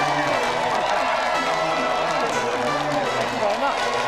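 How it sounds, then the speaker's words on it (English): A studio audience applauds steadily at a game show, a dense wash of clapping that lasts throughout, with a voice talking over it. "So let's another round of applause for our two special guests today, Stewart Lee and Richard Herring."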